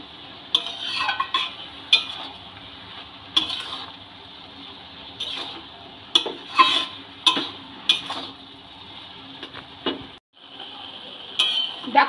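A spatula stirs bathua greens in a frying pan, producing irregular scrapes and sharp clinks against the metal, separated by quieter stretches of soft rustling and sizzling.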